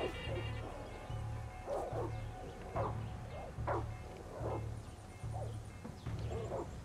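Dogs barking and yipping in a Far Cry 6 fight, with repeated short bursts of barks and growls at an even pace, fairly close and loud, over steady low game background rumble.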